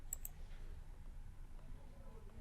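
A computer mouse clicks faintly, two quick clicks at the start, over a quiet room hum.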